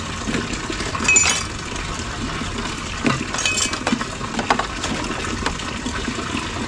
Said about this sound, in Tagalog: Kutsara at baso muna ang ating unahin.